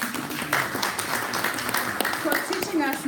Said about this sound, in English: A round of applause for Tolu